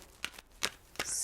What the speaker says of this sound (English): I feel called to shuffle.